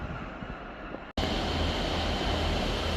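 Freight train 0E48 hauled by a Class 60 rumbles steadily past at Carlisle, running from Carlisle Network Yard toward Tyne Yard, a continuous loud low roar after a brief dropout.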